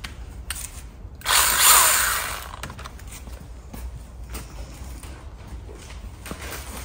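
A power tool bursts in at close range, whirring and grinding for about a second as it cuts a lump off a bonsai tree, then dies away to quiet ambience with scattered small clicks.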